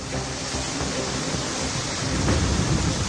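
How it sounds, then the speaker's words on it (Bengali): Heavy monsoon rain pours over Kolkata in a dense, steady roar of noise, with a low rumble of thunder swelling toward the end. "প্রবল বৃষ্টি, জল জমেছে কলকাতার বিভিন্ন এলাকায়।"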